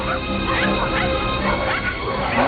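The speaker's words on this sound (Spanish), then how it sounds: "varios perros estaban ladrando cerca de la casa" Several dogs bark and yip continuously over one another, a dense, busy chorus with constant background noise.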